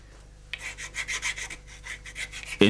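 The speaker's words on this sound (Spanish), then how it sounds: "nuestro amigo repasa las castañuelas con una lima de grano fino" A fine-grain file rasps across hand-carved wooden castanets, smoothing the surface in a quick series of close, rhythmic back-and-forth strokes with no talking.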